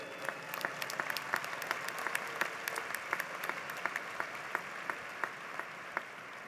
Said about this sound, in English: take a second and clap for yourselves for being here today